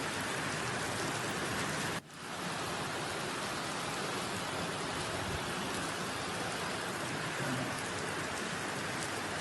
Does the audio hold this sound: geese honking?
no